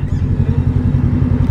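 A motorcycle engine idles nearby with a steady low, pulsing throb and a slight mechanical clatter, running evenly without revving.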